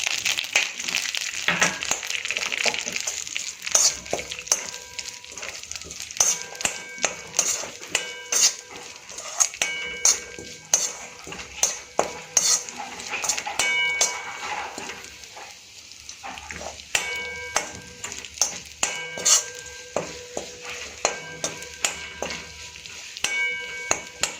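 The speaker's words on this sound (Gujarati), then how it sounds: "તો મિત્રો આપણા ડ્રાયફ્રૂટ શેકાઈ ગયા છે" Dry fruits roasting in ghee in a pan for a traditional semolina lapsi sweet, with steady soft sizzling and frequent clinks and scrapes of a spoon stirring against the pan.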